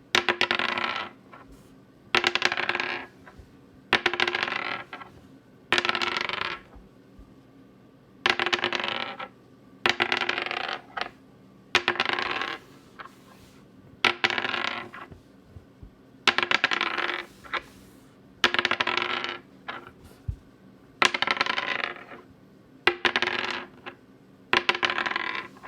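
Dice are spun and dropped again and again onto a hard surface, each throw a burst of clattering bounces and rattles followed by a short pause, about a dozen rounds in a steady rhythm with no talk.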